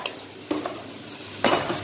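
Tofu skin and glass noodles are blanched in a pot of boiling water, and a utensil stirs them in a few short bursts of clinking and scraping against the metal over a soft bubbling background.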